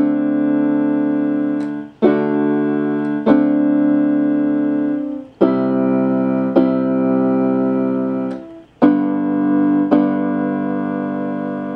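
Both hands on piano play the chorus chords of a song, several sustained chords struck in a slow steady pattern with low bass notes under them, clear and close without any talking.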